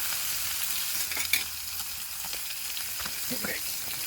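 Steady sizzling of food frying in a pan, a continuous hiss with faint clicks and occasional pops, close and moderately loud, with no talking.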